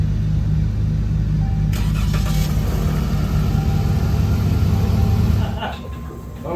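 Dodge Challenger V6 idling at a car meet, a steady low engine hum with a constant rumble under voices, dropping off near the end.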